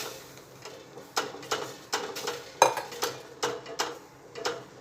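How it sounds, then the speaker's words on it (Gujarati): Bajra flour being stirred into water in a pan on the stove: a spoon scrapes and knocks against the pan in a steady rhythm of soft clinks and taps, fairly quiet and close, with no talk. "અને આપણે થોડો થોડો લોટ એડ કરી જઈશું અને હલાવતા જઈશું"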